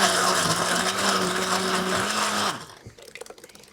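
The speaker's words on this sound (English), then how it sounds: "and we blend it up" A blender whirs steadily as it purees garlic, ginger, onion, fish sauce and anchovy sauce for kimchi paste, a loud constant motor drone that cuts off abruptly, followed by a few faint clinks and rattles.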